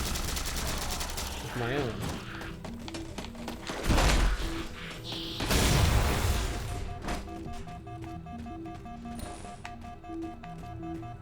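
Halo 4 combat on Xbox One X plays as bursts of rapid gunfire and a couple of heavy explosive booms, loud and dense against a game soundtrack, while someone talks briefly over the action.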